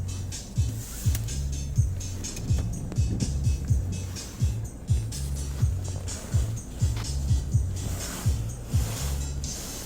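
A car idles at night with its air conditioning running, giving a steady low engine hum broken by a regular pulsing beat and faint rattles, heard close and continuous.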